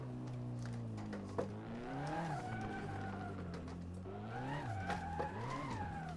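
In the Assetto Corsa racing game, a Tofaş with a turbocharged engine drifts with a droning, rising and falling engine note and sustained tire squeal, steady and continuous throughout.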